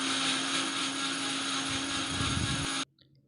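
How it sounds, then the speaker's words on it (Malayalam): A mixer grinder blends tomatoes, whirring loudly and steadily at high speed, a sustained motor roar that cuts off abruptly near the end. "അത് ഞാൻ എപ്പോഴും മിക്സിയിൽ അടിച്ചിട്ടാണ് തക്കാളി ഇടാറ്"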